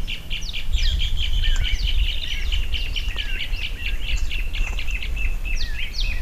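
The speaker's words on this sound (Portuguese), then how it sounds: "Juntou várias aves aqui" Several birds call and chatter together outdoors, a dense overlapping mix of sharp chirps and alarm notes running continuously and fairly close, with a low rumble of background noise underneath.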